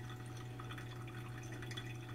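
Hot water poured in a slow swirl over coffee grounds during pour-over brewing, a faint, steady trickle with a constant low hum underneath and no talking.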